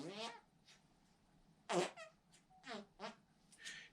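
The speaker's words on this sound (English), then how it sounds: "different effects like the walking fart" A pooter toy gives short, squeaky, buzzing fart noises, a quick series of separate bursts at close range in a quiet room.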